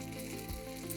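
Salmon bites fry in coconut oil over high heat, giving a dense, steady sizzle close up with a soft bump midway, fairly quiet overall.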